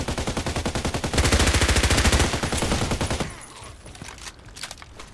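Rapid automatic gunfire from a weapon in the online shooter Contract Wars, a loud steady stream of shots that stops after about three seconds, followed by a few quieter scattered sounds.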